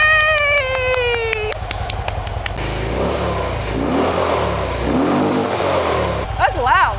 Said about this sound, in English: It's Screaming Eagle exhaust. So they're extra loud.